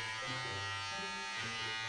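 An electric hair clipper cuts a man's hair at home with a steady, close, continuous buzz that holds level throughout, and no speech is heard.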